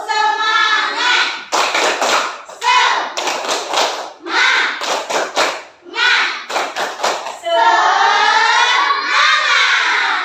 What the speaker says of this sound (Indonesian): Sekarang kita tepuk semangat sekali biar semangat lagi kita ya.